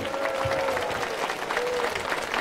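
A crowd at an election campaign rally in Sungai Rapat, Gopeng applauds, sustained clapping with some crowd noise, loud and continuous throughout.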